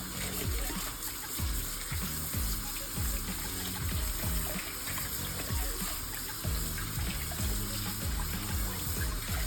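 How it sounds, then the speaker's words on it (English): Tap water runs steadily while a pan is washed in a home kitchen, a continuous splashing gush with faint clatter underneath and no talking. "wash the pan."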